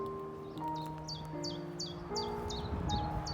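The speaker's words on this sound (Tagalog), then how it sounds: "Mga huni lang ng ibon" Small birds chirp in an English garden, a repeated run of quick, bright, high notes over a soft background of sustained tones and light rustling, fairly faint and at a middle distance.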